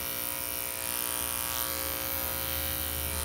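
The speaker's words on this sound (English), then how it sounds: "So that is the reason why when I'm shaving, I will shave up." Electric clippers shave a Shih-Tzu's coat during grooming with a steady, close, buzzing whine that holds an even level throughout, with no talking over it.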